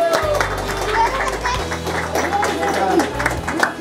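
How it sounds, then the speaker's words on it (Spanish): An audience applauds a salsa performer at a Christmas music event, with steady, full clapping from a crowd that goes on throughout, loud and close. "Vamos a darle un aplauso a Nael."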